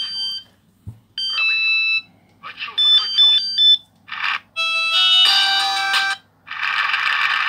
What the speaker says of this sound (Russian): Звук звонка.